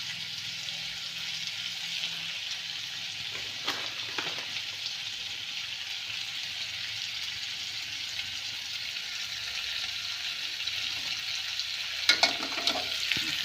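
Potatoes frying with crushed peanut powder being stirred in, a steady close sizzle throughout with a couple of brief scraping stirs of the spoon in the pan.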